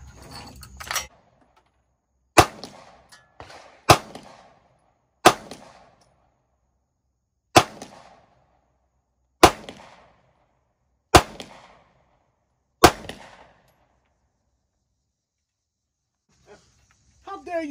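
A Korean War era US Army Winchester M1 carbine in .30 caliber fires seven sharp, loud shots outdoors at irregular intervals of one to three seconds, each followed by a short echo.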